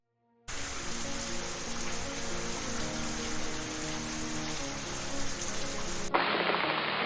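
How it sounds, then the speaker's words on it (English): Steady, even rain pouring down for several seconds, a dense hiss that starts abruptly and shifts brighter near the end. "As the rain fell, washing away the drought"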